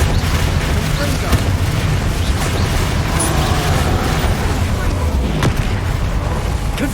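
A Confringo fire spell detonates in Hogwarts Legacy, with a few soft booming bursts spread across a steady, dense wash of game noise.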